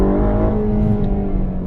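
A Ferrari Roma engine revving, a deep, harmonic-rich growl that holds steady and close for under two seconds with a slight rise in pitch, with no voices.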